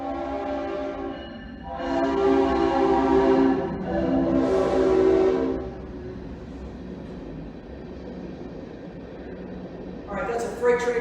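A Norfolk Southern freight train passes a railway depot, sounding two long, loud horn blasts over a steady rumble of rolling cars, with a further horn note near the end; a person talks over it.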